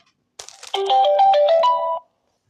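A solar 4G PTZ CCTV camera plays a short electronic startup jingle of a few clear, bright tones alone in the quiet, lasting under two seconds.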